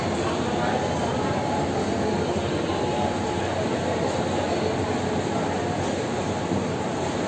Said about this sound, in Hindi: यहाँ पर इंद्राणी सुपरफास्ट एक्सप्रेस आती हुई नावला का प्लेटफॉर्म नंबर 3 है।